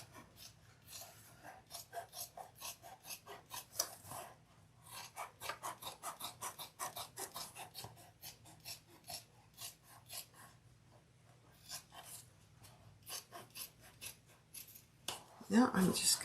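Scissors snip and rasp through material while trimming a handmade bag, a long run of close, rapid cuts with short pauses, ending in a louder burst of handling.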